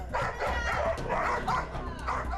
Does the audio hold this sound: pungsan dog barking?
yes